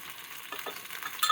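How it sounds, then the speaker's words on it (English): Chicken and rice pilaf is stirred in a hot pan, a brief soft scraping and sizzling with a couple of small clinks at close range. "So let's stir. Get it evenly distributed."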